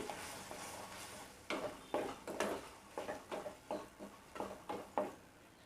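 Ground masala is stirred into potato and brinjal sautéed in oil, a faint sizzle under a run of rhythmic scraping strokes of a spoon against the pan, close by, with no talking.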